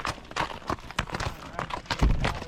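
Horses' hooves clop on the ground of an Arizona ranch in an uneven rhythm, close by, with voices talking underneath.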